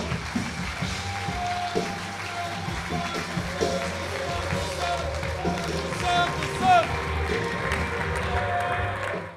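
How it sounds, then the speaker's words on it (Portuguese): A church congregation at a Brazilian worship conference claps together in a sustained burst of applause and cheering, with a preacher's amplified voice and crowd noise over it throughout. "Aplauda ao Senhor em nome de Jesus"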